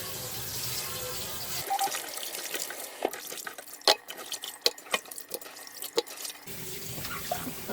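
Tap water splashes in a sink as pieces of duck are washed one at a time, with a steady stream at the start and end and scattered drips and light splashes in between.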